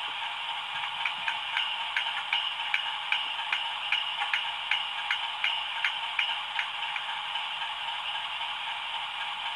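The spiral arch valve effect of a Class 60 locomotive from a TTS model train sound system, heard as a rhythmic series of sharp ticks and clicks over a constant hissing background, fairly quiet and with no voices.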